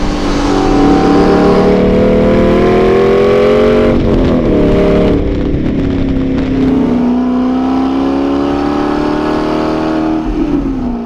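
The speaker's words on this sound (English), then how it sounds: "I like the sound of this V8 better than the V12" An Aston Martin V8 Vantage S Roadster's V8 revs hard and loud on the road, a dense, brutal engine roar with rising and falling pitch that continues throughout.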